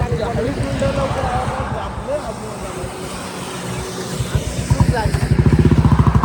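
A motorcycle engine runs up close while being ridden, its rapid pulsing putter growing louder toward the end, with people talking over it.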